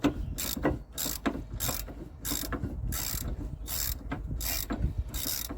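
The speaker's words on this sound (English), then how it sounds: "Let's get our 22 on a ratchet." A ratchet with a 22 mm socket turns bolts on the brakes of an Iveco Daily mk3 van. It gives a steady run of close, loud clicking strokes in repeated bursts, with no talk over it.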